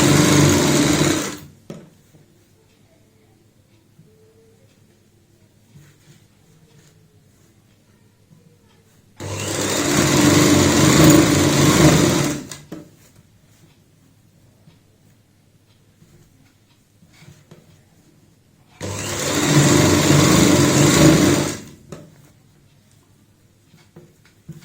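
A sewing machine stitches a baby frock in three loud bursts of a few seconds each, separated by long quiet gaps.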